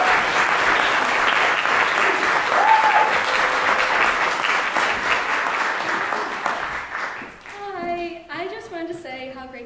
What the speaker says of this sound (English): Please join me in giving them a warm round of applause as we welcome first Alexis to the stage.